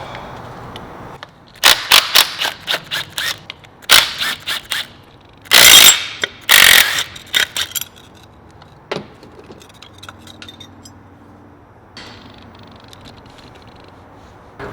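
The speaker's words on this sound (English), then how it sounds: "Pull the clutch cover off." Ratchet work on a motorcycle clutch cover during a chopper build: bursts of rapid metallic clicking in short clusters, loud and close, with clanks of tools and parts between them and no talk.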